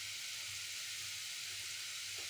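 Garlic fries in a pan for a Punjabi saag, giving a faint, even sizzling hiss that holds steady throughout with no voices.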